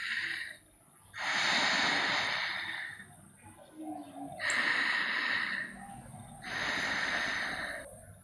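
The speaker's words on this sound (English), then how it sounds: "It's a really deep, little bit snoring sound," Deep, slightly snoring breathing through the nose with tightened vocal cords, three long rasping breaths close up, separated by short quiet pauses.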